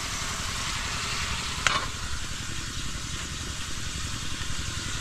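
Onion and garlic sautéing in a pan for a Filipino home dish, a steady soft sizzle with a faint low rumble underneath and one brief clink of a utensil partway through.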